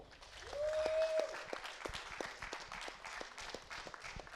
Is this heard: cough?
no